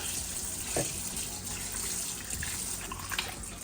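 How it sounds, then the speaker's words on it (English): Water pours onto pieces of stew meat in a kitchen while a soup is being made, a continuous close splashing rush with a few brief drips. "I'm going to add some water."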